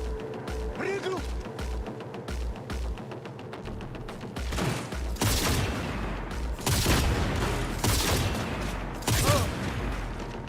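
Sniper rifle gunfire in Cyberpunk 2077, a handful of sharp loud cracks spaced a second or two apart over mechanical creaks and a low pulsing game backdrop.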